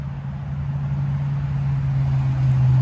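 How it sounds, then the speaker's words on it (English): Steady road traffic passing outside a porch on a fine day, a continuous low engine rumble and tire hiss that slowly swells louder, with no talking. "But a lot of car noises you can hear."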